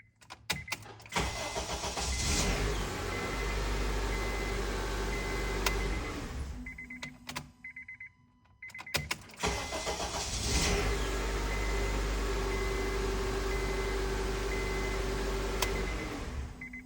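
A 2009 Honda CR-V engine cranks and starts after its starter motor was replaced, then runs at a steady idle. It cuts out briefly and is started again, settling back into a loud, continuous close-up engine drone.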